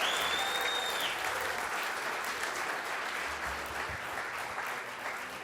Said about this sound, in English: Can we just give another round of applause to our special guest?